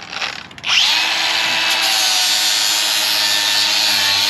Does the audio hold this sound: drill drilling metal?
yes